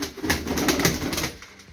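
Domestic pigeons cooing inside a backyard coop, soft overlapping coos close by over a steady low murmur, fading slightly toward the end.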